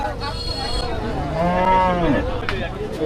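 One cow lets out a clear mid-level moo lasting about a second at a busy weekly cattle market in Demra Sharulia, with soft crowd noise around it.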